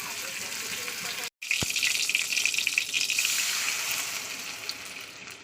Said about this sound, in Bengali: চলুন এই মাছটা ভাজা হয়ে যায় একটু পরে ফিরে আসছে